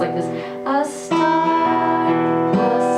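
Guitar plays a Christmas melody, with a few sustained picked notes ringing out over fingered chords, close and loud without voices.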